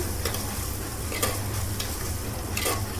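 Cashews frying in a pot for paneer and green peas pulao, a steady low sizzle with occasional scraping stir clicks throughout, close and even.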